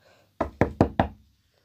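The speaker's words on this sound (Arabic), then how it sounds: "هيا نطرق الباب" Four sharp, evenly spaced knocks on a door in the video game My PlayHome, loud and close, with quiet pauses before and after.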